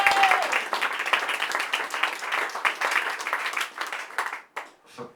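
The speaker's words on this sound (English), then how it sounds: "I think you all agree that Dane Baptiste deserves a special round of applause." A comedy club crowd applauds a stand-up comedian: a sustained, fairly dense round of clapping from a small room audience, moderately loud, tapering and thinning out near the end.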